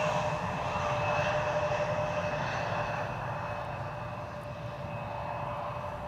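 An airliner arriving at Amsterdam Schiphol Airport gives a steady, loud engine roar with a thin high whine running through it, holding level and easing slightly toward the end, with no voices.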